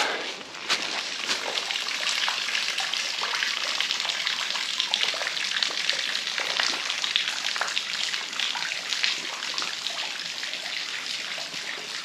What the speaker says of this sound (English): You hike a little bit and you hear a waterfall.